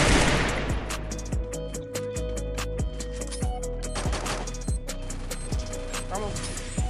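Rapid gunfire from the mobile battle game Free Fire crackles in bursts over a steady in-game engine hum, while a player talks excitedly throughout.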